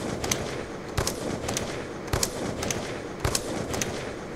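A DSR-50 or Ballista sniper rifle fires in a video game, with three sharp shots about a second apart, each followed by quick mechanical reload clicks.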